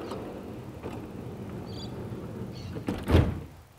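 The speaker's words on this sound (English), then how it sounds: "the joystick opens the door" A joystick-operated door on an adapted wheelchair-accessible van opens with a faint mechanical whir, followed by a louder thunk near the end, heard alone against quiet background.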